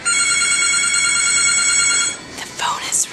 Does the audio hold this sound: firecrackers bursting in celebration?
no